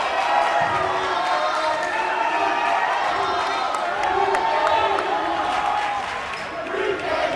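A basketball crowd in a high school gym chants at a player over an airball, a loud, dense and sustained roar of voices filling the space.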